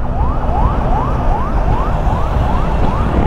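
An ambulance siren wails in a rapid, repeating rising sweep, loud and close from behind a vehicle on a road, with steady traffic rumble underneath.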